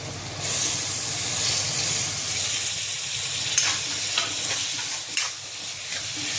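Onions and tomatoes fry in a pan for a spicy egg bhurji, giving a broad steady sizzle with soft scraping stirs and occasional louder crackles, close and alone.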